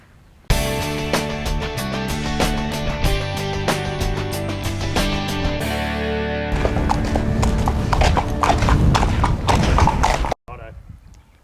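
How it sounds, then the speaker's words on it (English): Racehorse hooves clip-clop steadily at a stable, loud and continuous for about ten seconds beneath prominent music, then stop abruptly. "This week's horse, a new horse to the stable called Moneywheel."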